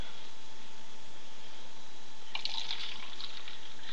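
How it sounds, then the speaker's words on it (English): Homemade soy milk is poured into a paper cup, a short soft liquid trickle that starts partway through after a quiet stretch of steady hum, close and gentle. "This is my soy milk that I made yesterday, and I'm pouring some into a cup."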